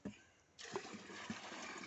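Cow urine poured into a tub of plain water while mixing organic fertiliser, a steady close splashing flow starting partway through and continuing to the end.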